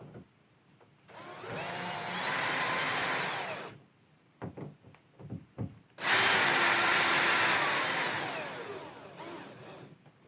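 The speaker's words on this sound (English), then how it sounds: "The driver does make short work of these very long screws." Two long bursts of a whining power drill driving very long screws while installing an electronic deadbolt, each rising and straining, separated by a few short clicks and knocks.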